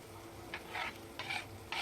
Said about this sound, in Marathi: आता आपण इथे टमाटर टाकून घेऊया